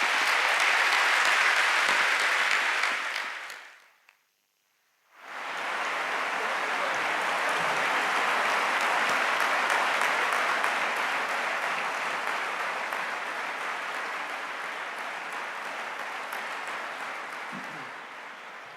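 Audience applause thanking two debate speakers, a loud dense burst of clapping that drops to silence for about a second, then returns and continues steadily, slowly fading.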